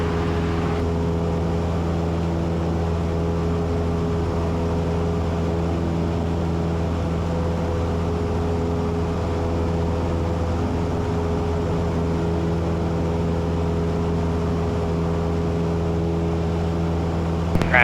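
Cessna light aircraft engine droning steadily inside the cabin during flight, a constant loud hum with fixed tonal harmonics throughout and no speech over it.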